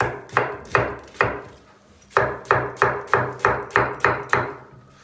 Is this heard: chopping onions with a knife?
yes